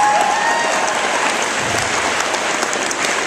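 Audience applause for honorees at a ceremony where girls receive a state citation: steady, dense clapping from a crowd filling the whole moment at an even level, with no voices over it.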